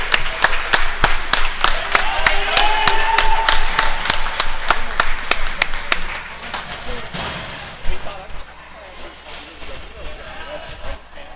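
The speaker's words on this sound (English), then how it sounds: "Let's clap to that." Crowd clapping in a hockey arena after a player takes a puck to the forehead and turns out fine: a dense run of sharp claps for about six seconds, then fading into scattered claps and rink noise.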